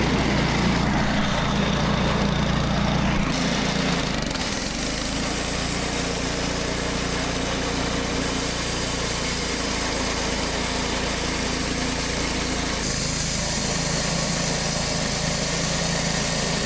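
A small sawmill engine runs with the choke on in winter cold, its high buzzing roar loud and steady, shifting pitch as the throttle changes, with no talking.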